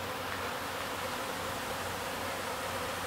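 Masses of honey bees swarm around their hives just after being fed sugar syrup, making a dense, continuous buzzing drone that stays even and fairly faint, heard alone with no speech.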